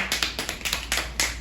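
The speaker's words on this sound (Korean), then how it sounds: "성공 박수" A group claps a short round of applause at a Bible doctrine school camp, right after reciting a Bible verse: a few quick, sharp, close claps in a brief burst with no talk.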